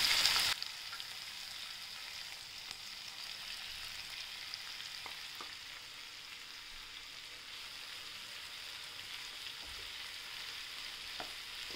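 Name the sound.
sautéing peas and vegetables for vermicelli upma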